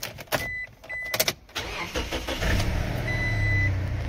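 A Toyota Innova with about 130,857 km on it starts up in a second-hand car market: a few clicks and a cranking burst give way to a steady, close idling engine hum, with a faint warning chime over it.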